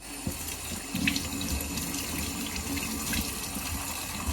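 Lukewarm water runs from a kitchen tap into a sink in a steady, moderate hiss, with a few soft knocks and splashes.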